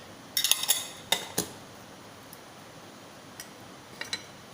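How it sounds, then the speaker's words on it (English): A petri dish lid handled at a lab bench gives a few light plastic clicks and taps, a cluster near the start and then sparse single ticks, close and crisp against a quiet room. "removing the vapor from the lid of the petri dish properly"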